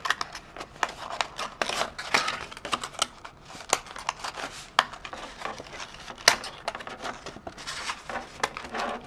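Sheets of paper being creased and folded into a small seed box, with a steady run of crisp rustles, taps and sharp crinkles close up and no voices.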